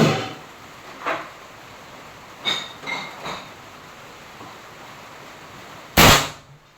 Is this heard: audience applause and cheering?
no